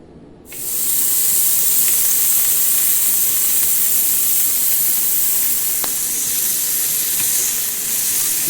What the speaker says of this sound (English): Griddle or pan fry the halloumi on both sides until properly browned to your liking